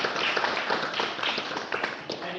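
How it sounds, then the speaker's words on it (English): Dense, steady applause from a crowd, a continuous wash of clapping with no gaps. "And a huge round of applause for Shaun."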